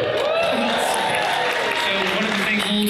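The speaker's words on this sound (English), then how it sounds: "Hold for applause." An audience at the 2014 San Diego Comic-Con panel for Bee and PuppyCat claps and cheers in a dense sustained burst, with mixed voices rising through it.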